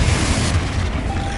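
A Confringo blasting spell going off in Hogwarts Legacy, a loud, continuous rumbling burst with deep low-end roar and a wash of broadband noise that fades slightly toward the end, with no talking.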